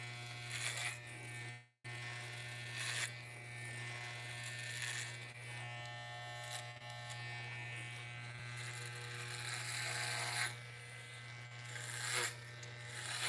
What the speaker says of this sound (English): I'm just blind shaving the back.